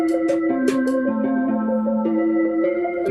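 A beat breakdown section made in FL Studio 21 plays loud and clear, with steady sustained tonal synth and bass notes that shift pitch every half second or so, punctuated by sharp percussive hits at the start and again near the end.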